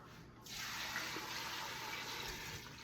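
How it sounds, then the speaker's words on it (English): Hot water pours steadily into a Nesco electric canner, a broad continuous splashing gush that starts abruptly after a short quiet moment and runs close and even until near the end, with no voices. "So to get started, it wants 8 cups of hot water."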